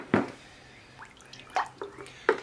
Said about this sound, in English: I'll give the root system a wash.